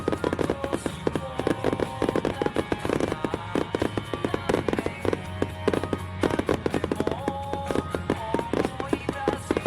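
Fireworks exploding at the Kushiro Tairyo Donpaku fireworks festival: dense, rapid, continuous booms and crackles that are loud throughout, like a finale barrage.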